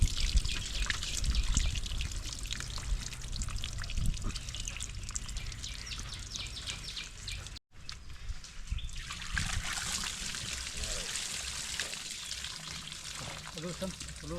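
Water is poured and trickles in a steady splashing stream that pauses briefly partway through, while people talk nearby.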